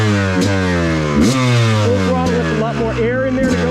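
A flooded, carbureted Yamaha YZ woods dirt bike engine held at full throttle, revving loud and close with rising and falling pitch; a person talks over the engine.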